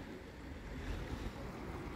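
Water from a burst pipe still pours across a flooded street in Kyiv, a steady broadband rushing and churning that holds constant, close and fairly loud, with no voices.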